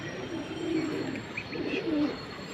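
Pigeons coo softly in a few low rolling phrases, faint and nearby, with no voices present.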